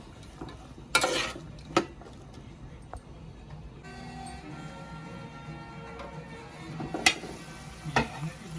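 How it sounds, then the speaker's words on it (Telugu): Onions browning in a pan for an egg curry, a soft sizzle running under quiet background sounds, with a few sharp stirring scrapes and utensil knocks scattered through. "బ్రౌన్గా వేయించుకుందామండి."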